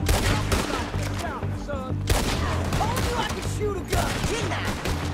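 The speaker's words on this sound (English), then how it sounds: "Shoot a gun!" Gunfire in Red Dead Redemption 2 during a mission about female suffrage, dense overlapping shots cracking out in a busy fusillade against a low music bed, with brief talk mixed in.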